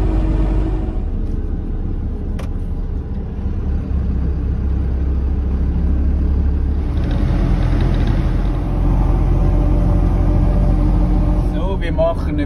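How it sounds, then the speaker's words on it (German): The knobby-tread front tires of a camper van roll along a road in Bulgaria, a steady low rumble and droning road noise heard from inside the cabin, continuous for the whole stretch, with someone talking over it. "Das lauteste, was man jetzt noch hört, sind die vorderen Reifen."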